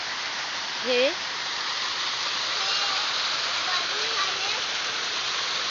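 Steady roar of a waterfall pouring over rocks along a crab-catching stream, loud and continuous from start to end, with a short spoken word near the beginning.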